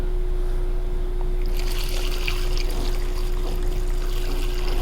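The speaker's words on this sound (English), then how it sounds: "let's pour this what used to be fuel out" Stale old fuel pours from a Briggs and Stratton engine tank through a funnel into small soda containers. A close, continuous liquid trickle and splash sits over a steady low electrical hum.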